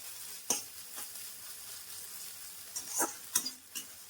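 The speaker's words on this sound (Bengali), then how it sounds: "আরেকটু এটা লাল লাল করে ভেজে নেবো, ভেজে আমি তুলে নেবো।" Maggi noodles frying in oil in a pan, a steady soft sizzle broken by a few sharp stirring scrapes and clinks, close and alone without talk.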